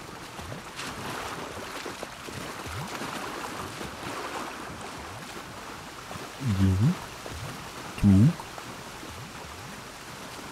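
Steady watery sloshing and lapping in The Last of Us Part II continues throughout, with a couple of brief low thuds partway through and a voice murmuring briefly.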